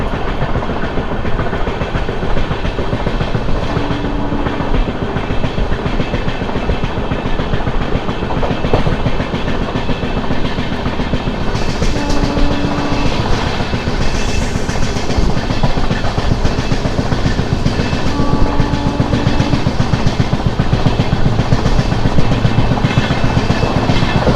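Vijayawada–Lingampalli Intercity SF Express speeding through without stopping, a loud, unbroken roar of carriages with steady clickety-clack from the wheels and a constant engine hum.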